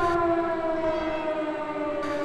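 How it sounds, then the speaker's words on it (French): Civil defense sirens in the Principality of Monaco sound at 11 a.m. for a minute of silence, a loud, steady wail of held tones that carries on unbroken throughout, with no voices. "suivies par les sirènes à 11 h précisément pour une minute de silence"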